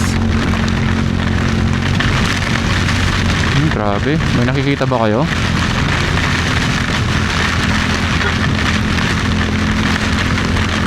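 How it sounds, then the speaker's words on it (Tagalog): Dense, steady rain roars throughout, with a person speaking briefly over the downpour partway through. "Lakas ng ulan"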